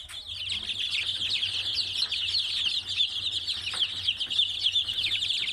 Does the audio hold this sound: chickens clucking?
yes